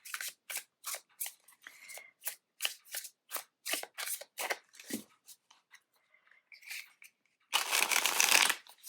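A deck of playing cards is shuffled close up: a quick series of crisp riffles and snaps, then a longer ruffling burst at the end.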